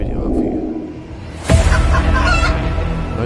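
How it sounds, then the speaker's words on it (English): Chicken clucking and crowing in a cryptocurrency teaser, a short squawky call followed by a louder burst of crowing with a soft whoosh behind it, heard up close. "Along with the sound of a chicken."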